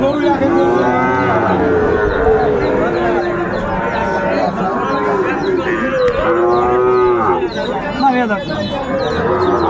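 Cattle at a Shahiwal bull-calf market in Comilla moo loudly and repeatedly, several overlapping calls close by, with crowd chatter and a few bird calls in the background.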